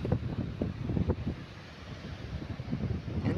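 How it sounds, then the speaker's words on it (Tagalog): Strong wind and waves at Lingayen baywalk, a continuous low rumbling wash with uneven gusty swells, moderately loud and steady with no talking. "Malakas ang alon, ang hangin, presko."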